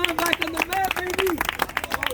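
A small group of people clap in farewell at a handball park, a brisk, uneven patter of hands with voices talking and calling out over it.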